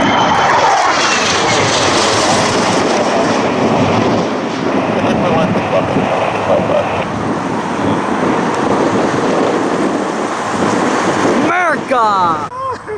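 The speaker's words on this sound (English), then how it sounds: "763 F-16, just up off 15 left." An F-16 fighter jet takes off at the Canadian International Air Show practice, a loud, sustained roaring engine rush that slowly eases, with brief voices near the end.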